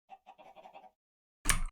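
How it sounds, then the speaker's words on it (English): Chickens in the video game Minecraft, crammed into a tiny breeding pit, give a quick run of about seven short clucks, then a sudden loud burst of game noise closes the brief sequence. "The idea is we want as many chickens as possible in this little tiny hole."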